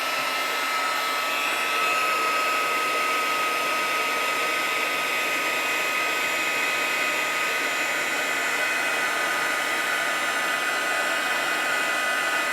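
An electric heat tool melting Tim Holtz embossing glaze, blowing a steady, even hiss-like whir up close with no pauses from start to finish.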